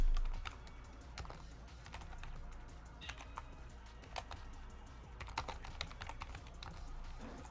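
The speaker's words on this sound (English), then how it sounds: "you're typing way too fast" Fast typing on a computer keyboard, rapid irregular clicking and clacking of keys in quick bursts with brief pauses, close and fairly quiet, with no talk.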